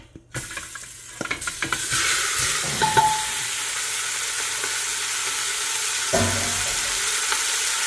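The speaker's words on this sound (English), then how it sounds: "Okay, the oil is ready. And now I'm gonna put the meat." Meat dropped into hot oil and searing for a stew, a loud steady sizzle rising after a few clattering handling sounds and holding broad and close for several seconds, with one more burst of contact near the end.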